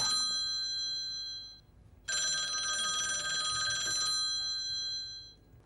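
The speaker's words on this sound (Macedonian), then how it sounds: "Режија телефон." A telephone rings in a radio or TV studio, two bursts of a bright electronic ring separated by a short pause, clear and alone in a quiet room.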